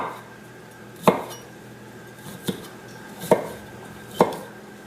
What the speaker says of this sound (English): So I'm going to chop up my florets, and then I'm going to blanch them.